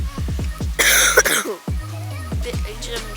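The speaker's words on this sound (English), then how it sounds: "if you hear me coughing, it's because I am sick." A sick man's coughs break up his live commentary during a competitive ball-game match: a loud, broad burst near the middle, with speech before and after it.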